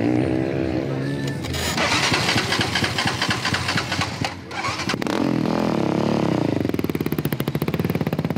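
Off-road racing quad bike engines at a national quads round, one of them overheating and blowing fuses, rev loudly and close with a dense buzzing drone, a dip around midway, then a sharp pulsing rasp toward the end.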